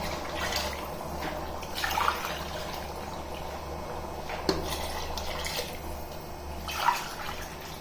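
Water is poured onto soaked, washed rice in a pot for chicken biryani, a soft continuous splashing and gurgling with a few brighter clinks against a low background hum.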